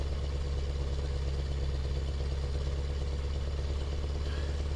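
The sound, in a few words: truck engine with straight pipe exhaust from video game Euro Truck Simulator 2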